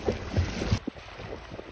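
A rowing boat moves on the water at Hvar with a few soft splashing oar strokes and knocks, quiet and brief over light wind noise.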